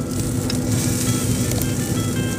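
Bloody Mary glaze brushed onto a smoked bacon-infused meatloaf on a hot cooker, giving a dense, steady sizzle and crackle up close with small pops scattered through, no voices.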